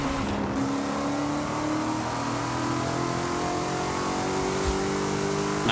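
Mosler MT900 GT3 race car engine in Forza Horizon 5, a steady loud drone with rising harmonic tones as it accelerates, held at a constant level with a brief shift near the end.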